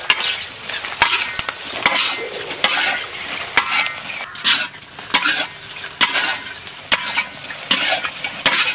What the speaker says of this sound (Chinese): 牛蹄下锅。 炒掉水分，